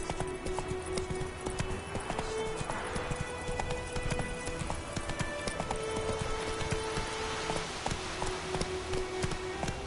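Roach the horse trots in The Witcher 3, hooves clip-clopping steadily and close for the whole stretch over a continuous outdoor ambience, with a faint music tone underneath.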